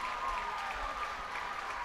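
A baseball crowd applauds after a fly-ball catch at the warning track in a Reading Fightin Phils versus Bowie Baysox minor-league game, a steady, moderately distant wash of clapping with no talk.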